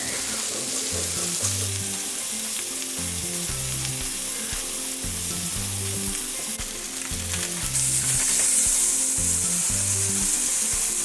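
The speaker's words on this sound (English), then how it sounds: "now I'll use this pan to cook my sausage" Maple Jimmy Dean sausage fries in a pan with a loud, continuous close sizzle and occasional stirring under it, swelling a little louder toward the end, with no talk.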